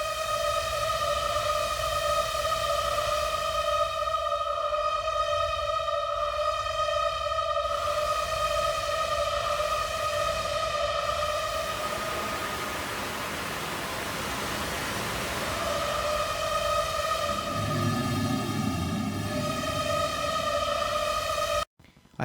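A waterharp horror effect played back with heavy distortion for a forest ambience, a dense sustained metallic drone with layered tonal bands over a wash of noise, swelling and thinning over about twenty seconds before cutting off abruptly.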